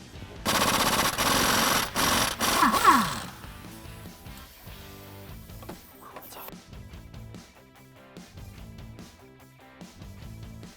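Impact wrench hammering loose a 24mm crank pulley bolt, loud rapid rattling bursts in the first three seconds, then quieter workshop sounds with some background music.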